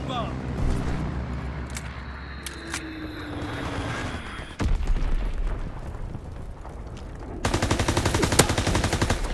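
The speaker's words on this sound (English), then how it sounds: "Dropping Azon bomb." Azon bomb dropping and detonating in Call of Duty WW2 multiplayer, a heavy boom cutting through dense rapid gunfire, followed by a louder, sustained rattle of shots near the end.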